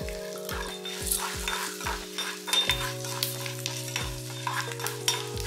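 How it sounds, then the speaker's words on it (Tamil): Dried red chillies fry with dal in hot oil, a close, bright sizzle broken by regular scraping and clinking stirs of a spoon against the pan, with no speech. "காஞ்ச மிளகாய் போட்டுக்கலாங்க"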